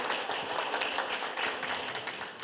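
A room full of people applauds a moderator at a regional panel forum, with dense, steady clapping all the way through at a loud, even level.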